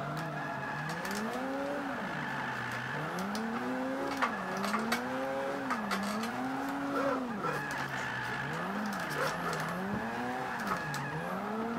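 A Mazda RX7 drifts in Forza 5 with a rising and falling engine note in repeated swells, tires squealing through slides, loud and continuous with no voices.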